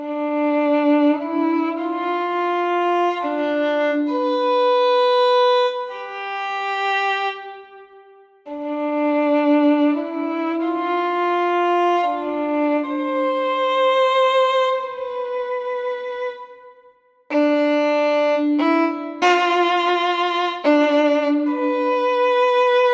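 A sampled 1713 Stradivari violin from the Joshua Bell Embertone library plays a clear melodic line of sustained, bowed notes with brief pauses between phrases, alone and close.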